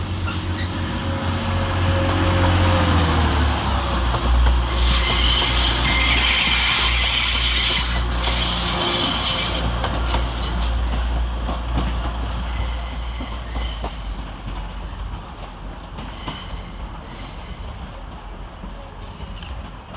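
Transpennine Express train 185129 pulls out of Manchester Piccadilly station, its diesel engine rumbling loud and close and then fading as it draws away, while wheels squeal on the rails and station noise carries in the background.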